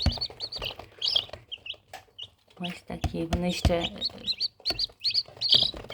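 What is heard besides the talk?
newly hatched Faverolles chicks chirping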